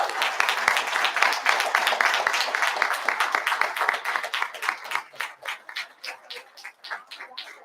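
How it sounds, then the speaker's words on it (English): An audience claps loudly in dense, sustained applause that gradually thins into fewer, slower individual claps toward the end. "let's have one more round of applause for this class of parents and community leaders"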